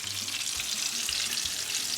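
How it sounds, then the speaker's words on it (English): Salisbury steak patties fry in a greasy pan, giving a continuous close sizzle and crackle with a steady level throughout. "I'll fry them pretty good on one side, fry them pretty good on the other"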